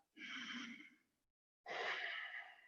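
Two slow, audible breaths in a quiet room during a power vinyasa yoga class, an exhale then an inhale separated by a brief silence, close and soft with no talking.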